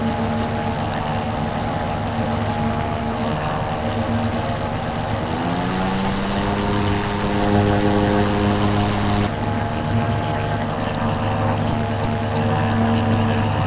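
A small propeller aircraft engine drones steadily in flight, loud and close from inside the cabin, with its pitch shifting partway through as the engine note changes, and no talk over it.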